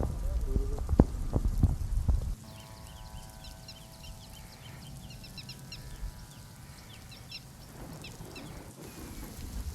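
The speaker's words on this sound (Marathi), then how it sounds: "धार पाऊस पडतोय" Steady heavy rain falls in Jalna with a dull, constant hiss, some nearby thumps and voices at the start, and birds chirping faintly in the background.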